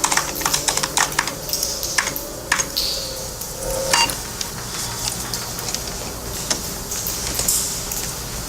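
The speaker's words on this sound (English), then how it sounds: "Just use the keyboard." Brisk typing on a computer keyboard, a dense run of light, irregular key clicks with a few heavier taps, close and clear with no voices, set as a radio drama sound effect.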